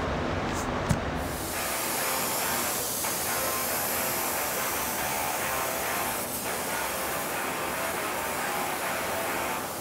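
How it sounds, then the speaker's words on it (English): A spray gun lays clear coat on a Datsun 280Z being converted to a JDM-style car, giving a steady close hiss of atomized paint that runs unbroken for about ten seconds. "Spraying the clear can be a little bit tricky."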